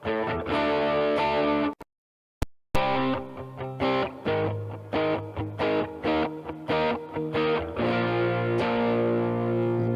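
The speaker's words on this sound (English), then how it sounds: "my first stage distortion, which is the Minotaur" Electric guitar played through the Minotaur distortion on a Line 6 Helix, thick sustained chords and riffs with a brief cut to silence, then choppy rhythmic strumming, loud and close, no talk.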